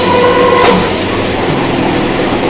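A Bengal local train rumbles steadily near Ranaghat station, a loud continuous rolling roar with a brief high squeal early on, no talking.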